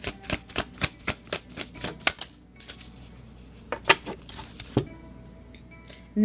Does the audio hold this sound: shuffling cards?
yes